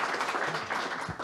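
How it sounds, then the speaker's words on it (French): A crowd applauding at a conference presentation, a dense steady wash of clapping with no clear individual claps standing out, lasting only a moment. "Je vous propose de l'applaudir pour sa venue et pour le remercier"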